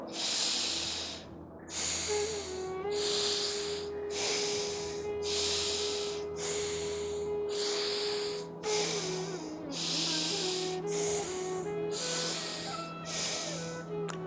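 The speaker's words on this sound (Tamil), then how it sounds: "ரைட்டில் மூச்சு வெளியே விடுங்க ரைட்டில் மூச்சை உள்ளழுங்க லெஃப்டில் மூச்சு வெளியே விடுங்க" Alternate nostril yoga breathing: a steady series of about a dozen forceful nasal breaths, close and evenly spaced, over a faint sustained tone in the background.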